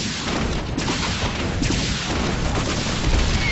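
A Terran tank is destroyed in a StarCraft match, amid a dense, steady wash of game explosions and weapon fire that holds loud throughout with booming low-end impacts.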